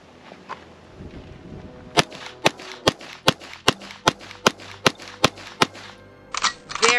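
A .22 FN firearm fired in a rapid string of about a dozen sharp, close, evenly spaced cracks, preceded by quiet handling noise.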